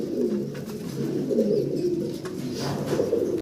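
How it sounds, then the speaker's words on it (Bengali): Giribaz fancy pigeons coo in a soft, continuous low murmur of overlapping calls, close by and steady throughout, with no talking. "এটা হলো গ্রিবাস জাতের কবুতর তাই না ভাই"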